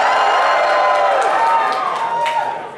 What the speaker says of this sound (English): I want to hear a big cheer for Gambit